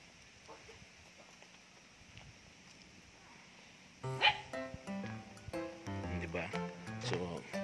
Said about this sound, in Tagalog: Maganda ng aso.